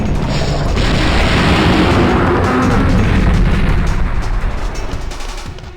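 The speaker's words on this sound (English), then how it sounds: "At least there's no friendly fire on the artillery." Rumbling artillery explosions from the video game Dino Crisis 2, a dense continuous barrage of booms that stays loud for several seconds before tapering slightly at the end, with no voices.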